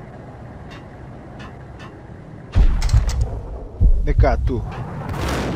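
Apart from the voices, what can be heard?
gunshots in the video game Max Payne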